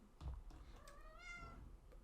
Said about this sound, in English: And that's my cat.